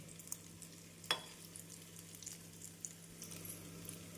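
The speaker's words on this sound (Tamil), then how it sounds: "எண்ணெய் சூடானதும் மீடியம் ஃப்ளேமில் வைத்து பன்னீரை போட்டு விடலாம்" Paneer pieces deep frying in hot oil over a medium flame make a soft, fairly quiet bubbling sizzle, with a few small clinks and taps standing out, and no talking.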